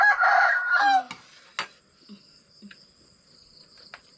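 A rooster crows loudly and close for about a second, then soft, scattered clucks from chickens follow against a steady background of chirping insects.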